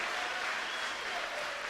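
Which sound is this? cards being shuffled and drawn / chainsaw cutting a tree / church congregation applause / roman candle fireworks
church congregation applause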